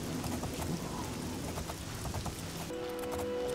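Steady rain pours down in the fantasy role-playing game Oblivion, a dense, even hiss of falling drops that continues throughout, with a few faint tones entering near the end.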